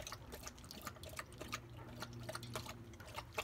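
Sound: dog drinking water

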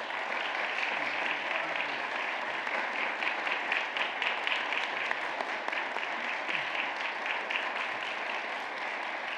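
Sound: congregation applause at church service

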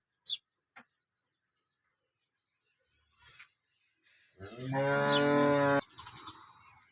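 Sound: cows mooing

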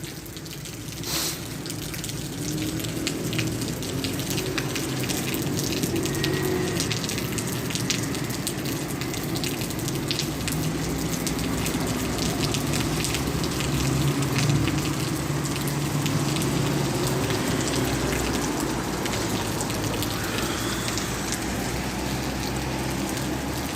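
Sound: heavy downpour rain while sheltering by shops on bicycle tour

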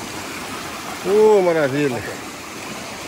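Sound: small waterfall

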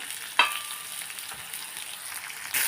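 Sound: onions frying in a pan for potato kurma

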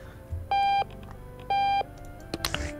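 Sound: alarm clock beeping in Octodad video game

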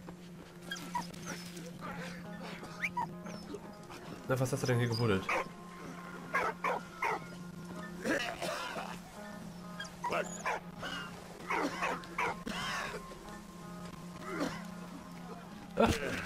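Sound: dog whimpering and barking in the video game Valiant Hearts

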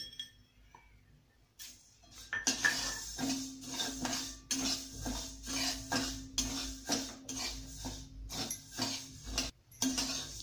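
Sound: dry roasting fenugreek seeds in a pan

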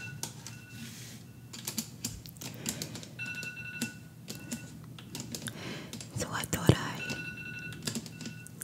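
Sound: iPhone alarm ringing

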